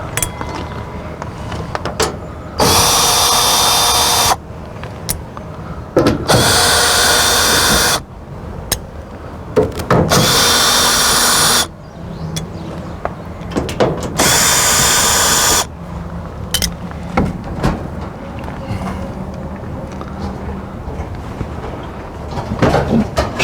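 Power drill backing screws out of the side panel of an Ariston (Splendide) dryer, with several loud whirring bursts of one to two seconds each separated by quieter clatter and handling noise.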